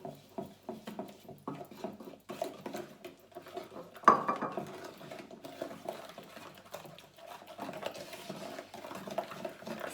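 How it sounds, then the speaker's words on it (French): Eggs and sugar being mixed by hand in a bowl for gluten-free pecan brownie batter, soft continuous scraping and clinking of a utensil against the bowl, with one sharper knock partway through. "Donc maintenant, je vais rajouter le sucre au fur et à mesure. Je mélange tranquillement"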